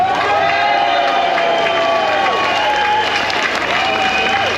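Crowd at a London rally clapping and cheering, steady dense applause with scattered shouts, loud and close for the whole stretch.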